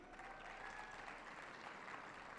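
An audience applauds at Tucson's 2021 State of the City event, a soft, steady patter of clapping heard faintly and continuously from a distance, with no voices.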